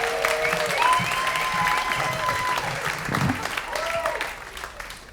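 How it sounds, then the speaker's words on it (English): Comedy club audience applauds an incoming comedian at a stand-up bootcamp show, a full, steady wash of clapping with some cheering and crowd voices mixed in, sustained through the whole stretch. "let's have a nice round of applause for him"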